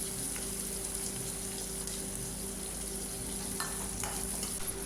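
Chopped onions fry with asafoetida in a pan, making a constant close sizzle with occasional stirring scrapes and small pops, and no one talking.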